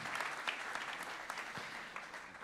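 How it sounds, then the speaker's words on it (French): An audience at a formal economic event applauds after a signing ceremony, a steady, moderately loud wash of many hands clapping with no voices over it. "Voilà, on va les applaudir déjà."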